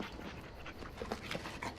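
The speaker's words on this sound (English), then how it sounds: "Cute little puppy." A puppy in Dragon Age: Origins pants rapidly and whimpers softly in a short, close, breathy stretch with faint high whines, no talking over it.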